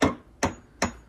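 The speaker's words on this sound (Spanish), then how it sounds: "estamos poniendo un clavo en la pared para poder colgarla" A nail is hammered into a wall with a makeshift tool in place of a hammer, giving three sharp, evenly spaced knocks about half a second apart, close and fairly quiet, with no talk.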